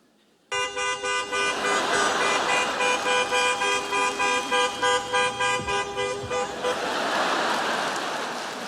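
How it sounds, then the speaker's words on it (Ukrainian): A car horn sounds at a traffic light, one long sustained honk that starts abruptly and pulses slightly before fading into a steady road noise, loud and close with no talking. "Ти стоїш на світлофорі, тільки увімкнувся зелений, а позаду вже хтось сигналить"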